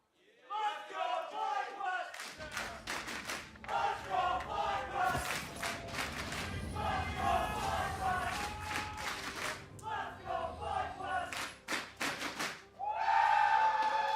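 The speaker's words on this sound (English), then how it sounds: "Fans of both teams here in the audience, everybody's cheering for their squad to be able to bring home the W on this one." Esports arena crowd at an LCS Spring 2019 quarterfinal, FlyQuest vs Golden Guardians Game 5, cheering and yelling loudly and continuously, with sharp rhythmic claps and thumps of thunder sticks cutting through the roar.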